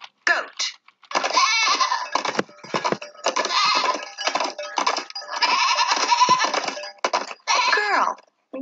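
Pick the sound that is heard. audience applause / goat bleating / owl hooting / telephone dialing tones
goat bleating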